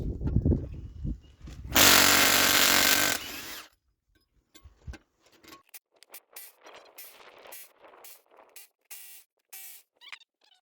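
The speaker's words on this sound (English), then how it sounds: "I have it on the impact." Impact wrench working loose a brake rotor on a first-generation Dodge dually: one loud sustained burst of hammering whir about a second and a half long, then a string of short clanks, taps and rattles from handling parts, with no talk.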